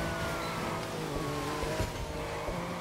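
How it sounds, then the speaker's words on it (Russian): A Lamborghini engine in the racing game The Crew 2 revs hard and steadily, a loud continuous engine drone with rising harmonic tones that holds for about three seconds without any talking. "движок до 10 тысяч может крутиться"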